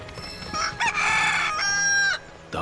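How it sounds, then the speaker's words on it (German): Chickens in Final Fantasy VII Rebirth cluck and crow close by, a run of loud, drawn-out squawking calls that rise and fall and then end, with a short cluck at the end. "Guck mal, da ist auch noch ein Hühnchen da hinten."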